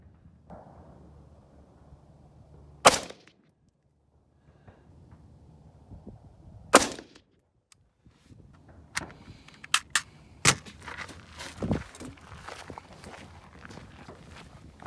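A Daniel Defense DDM V4 rifle fires single deliberate shots while its optic is zeroed on a range, with sharp, loud cracks spaced several seconds apart amid quieter handling and shuffling sounds.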